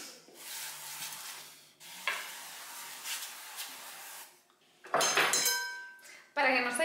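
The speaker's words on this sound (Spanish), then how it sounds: "Para que no se me queme el ajo y la cebolla, lo que voy a hacer es que les voy a dar la vuelta" Garlic and onion frying in a pan, a steady close sizzle with utensil scrapes and clinks as the food is stirred and turned, a voice talking over it.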